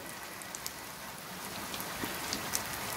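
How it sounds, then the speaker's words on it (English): Rain falls steadily, a soft continuous hiss with scattered faint drops pattering on nearby surfaces, fairly quiet and with no voices. "Hear the rain."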